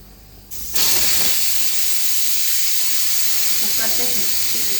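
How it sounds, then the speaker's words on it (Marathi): After a brief quieter moment, a pressure cooker cooking keema blows its third whistle, bursting into a loud, steady hiss of escaping steam that continues without letting up. "कुकरच्या 2 शिट्ट्या झाल्या आणि आता ही 3री शिट्टी होतीये"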